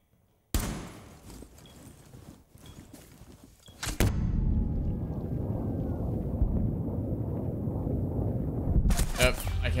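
Light machine gun fire in the video game Rainbow Six Siege comes through as a sudden loud burst after near silence, then a dense rattling roar that continues for several seconds.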